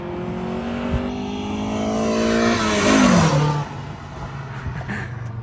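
A Honda Prelude on its stock exhaust revs up, the engine note climbing steadily then dropping off as the throttle closes, followed by a lower settled idle, fairly close.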